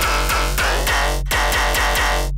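A heavily processed, distorted sound is run through a frequency shifter acting on its bottom end, loud and continuous, with repeated rhythmic pulses and a brief dropout midway.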